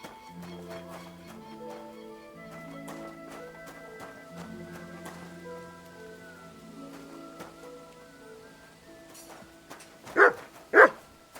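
Two loud, sharp dog barks near the end, set in the medieval game Kingdom Come: Deliverance II, following a stretch of layered tonal game music and ambience.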